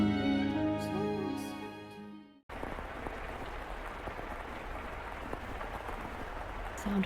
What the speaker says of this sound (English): The sound of the rain never seems to stop.